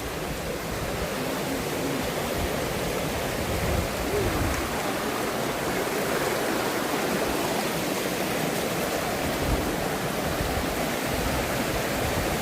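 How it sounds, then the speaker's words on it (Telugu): Dudhsagar waterfall in Goa roars as a continuous, loud, even rush of falling water, a broad steady wash with no pauses or voices. "ఇదే ఫ్రెండ్స్ దూద్సాగర్ వాటర్ ఫాల్స్"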